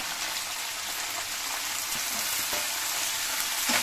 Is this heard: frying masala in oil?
yes